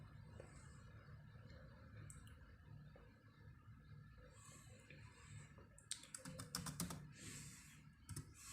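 A password being typed on a computer keyboard during a software installation, heard as faint, scattered key clicks followed by a quicker cluster of sharper taps, like pressing enter, over a low background hum.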